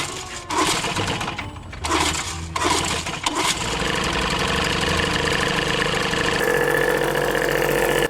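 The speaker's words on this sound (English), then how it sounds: "Human head versus lawnmower ceiling fan." A lawnmower engine mounted as a ceiling fan chugs and rattles loudly nearby, cutting in and out a few times before running continuously with a harsh, steady drone.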